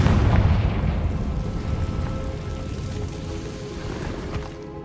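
A Confringo fire spell explodes in Hogwarts Legacy, a loud booming burst that decays into a long rumbling, crackling tail with debris-like patter, no talking.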